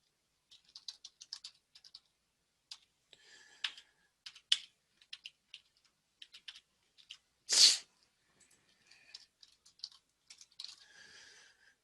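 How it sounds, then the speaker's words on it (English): Sporadic computer-keyboard typing in bursts of light clicks and taps, close and fairly quiet, with one sharp louder burst midway and short pauses between runs of keystrokes. "Hopefully my typing improves as this goes along"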